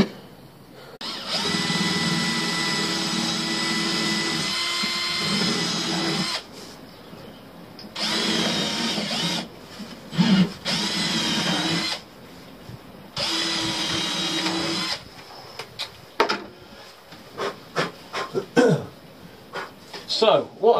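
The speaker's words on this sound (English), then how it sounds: "So I'm pre-drilling holes like this, and here, and here" A power drill pre-drills holes in a boat locker box that is being fitted to the seat and floor of a small boat. The motor whines in several sustained bursts with pauses between them, and shorter clatters near the end.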